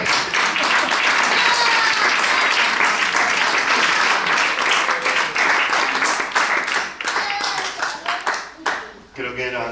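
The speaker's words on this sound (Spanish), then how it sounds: "Un aplauso, por favor" Audience at a Spanish forum theatre session claps in a loud, sustained round that thins and tapers toward the end, with some voices mixed in.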